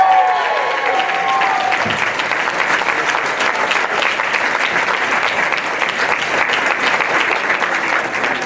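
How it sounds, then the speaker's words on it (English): At the Plutus Awards ceremony, an audience applauds the announcement of the blog of the year winner. The clapping is loud and sustained, an even wash of many hands lasting over eight seconds with a faint murmur of crowd beneath it. "Another round of applause for all the winners tonight."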